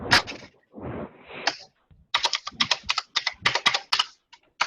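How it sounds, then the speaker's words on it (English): Fast, clacky keystrokes on a mechanical keyboard come in rapid bursts with short pauses between, close and crisp, with no voices. "somebody's typing angrily"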